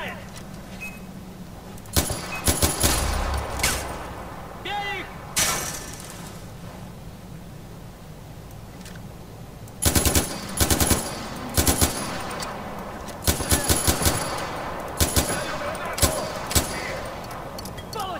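Bursts of gunfire from the Far Cry 4 video game crack out in scattered clusters, with a longer run of rapid shots in the second half. Someone talks over the shooting at times, and quieter stretches sit between the volleys.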